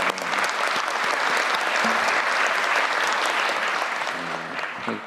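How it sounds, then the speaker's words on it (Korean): An audience bursts into sustained, dense applause during a government work briefing, loud and close for several seconds before tapering slightly, with a faint voice briefly audible. "박수 한번 감사합니다"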